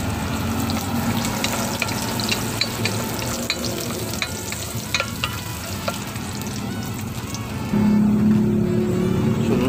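Garlic sizzling and frying steadily in a pan for Bicol-style igado, a dense continuous crackle with occasional stirring scrapes, growing louder near the end.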